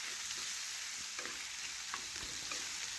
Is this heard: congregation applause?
no